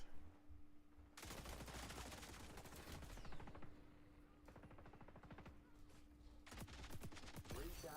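RPK machine gun in the shooter game XDefiant fires long, loud, rapid bursts, nearly continuous with brief pauses, over a steady background hum.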